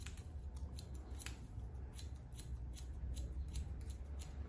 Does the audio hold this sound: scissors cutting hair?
yes